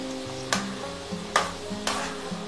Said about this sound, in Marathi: त्यामुळे छान क्रिस्पी अशी होईपर्यंत आपल्याला मिरची तळून घ्यायची।